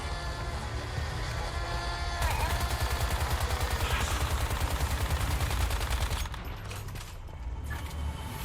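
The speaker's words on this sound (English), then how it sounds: "I would like to drop the minigun then." A minigun in the open-world survival game Once Human fires in a sustained, rapid burst, its dense mechanical chatter building at about two seconds and then rolling on steadily. The stream breaks up near the end, with no talk over it.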